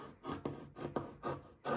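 Scissors cut through fabric for a face shield extension, trimming inside the seam allowance, giving about four short, close rasping snips in a steady rhythm with no talking.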